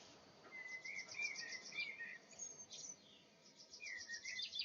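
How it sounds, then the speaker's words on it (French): Small birds sing outdoors in the mountains, with repeated high chirping phrases and short trills carrying on through a quiet, faintly buzzing background with no voices. "On entend bien les oiseaux, ça fait plaisir."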